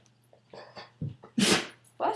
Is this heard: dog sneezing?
yes